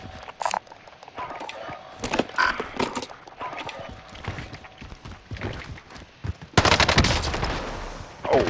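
Scattered shots crack amid Call of Duty: Modern Warfare gameplay, followed by a loud, dense burst of rapid gunfire near the end.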